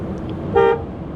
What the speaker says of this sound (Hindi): इस वक्त इतनी ज़्यादा ट्रैफिक है, ऐसे लग रहा है जैसे सारा शहर ही बाहर निकल आया हुआ है